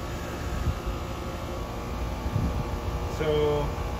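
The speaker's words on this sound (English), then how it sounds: "And let's kick on the air conditioner." Steady mechanical drone of a 4-ton air conditioner running on a generator, a continuous close hum with a rising tonal whine near the end and a few faint knocks.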